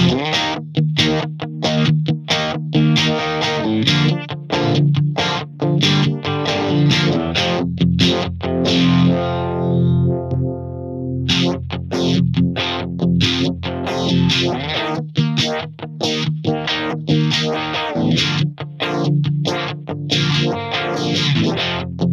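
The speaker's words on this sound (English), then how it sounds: "let's go with the vibe phaser" An electric guitar runs through a vibe phaser pedal placed before the amp, playing rhythmic strummed and picked phrases with a swirling, distorted tone, loud and continuous, with a brief sustained fade midway.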